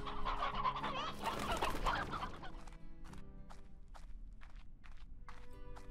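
Stony hens cluck and chatter in Slime Rancher, a busy flurry of close clucks at first, then sparse scattered pecks and clucks over a low game ambience.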